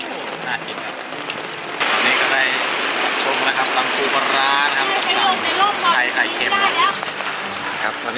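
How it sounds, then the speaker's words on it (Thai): Heavy rain pours down in a misty mountain village, a dense steady drumming on surfaces that grows louder partway through and continues without pause. "วันนี้ต่องครับกลางสายฝน"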